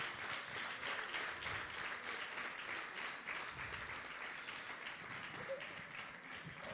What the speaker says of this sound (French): Est-ce qu'on peut l'applaudir comme il se doit?